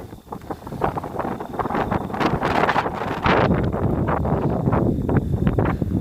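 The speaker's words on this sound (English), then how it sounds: "Like I said, a lot of wind." Strong wind gusts across a broad, open mountaintop in Colorado's Lincoln Mountain Open Space, buffeting the microphone with loud, rough, surging roars that build and ease unevenly throughout, with no one speaking.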